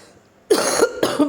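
Two sharp, close coughs in quick succession break a quiet moment, the first louder than the second.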